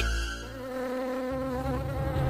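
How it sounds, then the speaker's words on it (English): A swarm of mosquitoes in a cartoon buzzes continuously with a thick, steady drone, close and loud, with no voices over it. "Alice clung to the swarm of mosquitoes, which carried her to where Joy and Sadness were"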